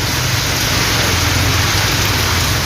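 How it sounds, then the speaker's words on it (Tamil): Heavy rain pouring in Tiruvarur district, a dense, loud, unbroken hiss of downpour filling the scene evenly from start to finish, with no voices. "திருவாரூர் மாவட்டத்தில் 2வது நாளாக கனமழை பெய்தது"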